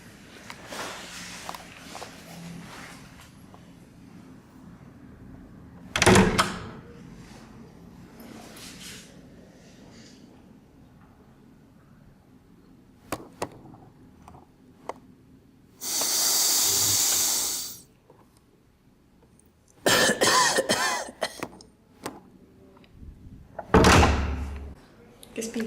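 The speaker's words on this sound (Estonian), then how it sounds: "tehke uks lahti, nuusutage prao vahelt ja pange tagasi kinni" A door is opened and shut again and again during a staged performance scene, with clunks, latch knocks and slams, a long hissing burst in between, and people talking in the background.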